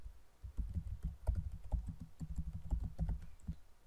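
Someone types on a computer keyboard while entering a derivative as dynamic text in GeoGebra, giving a steady run of soft, close key clicks with no voices.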